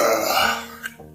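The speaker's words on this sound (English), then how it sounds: "This burp has a certain airy quality about it." A short, airy burp sounds up close and loud, breathy rather than deep, then trails off quickly with a small hiccup-like catch at the end.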